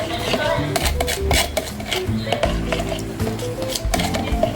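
Pizza dough mixture with warm water is stirred in a bowl, scraping and clinking of a utensil against the bowl, steady and close, with a voice talking over it.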